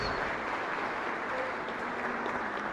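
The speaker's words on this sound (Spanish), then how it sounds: "Un fuerte aplauso." Applause in a chapel during a novena celebration for the Virgin of Carmen, a continuous, moderately loud patter of many hands with a faint voice briefly underneath.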